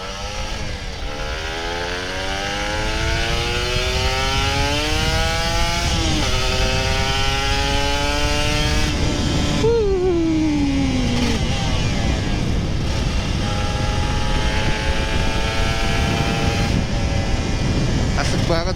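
A Kawasaki Ninja RR 150 two-stroke motorcycle revving hard, its high raspy engine note climbing and falling through several long throttle sweeps, loud and close, with a brief drop near the middle.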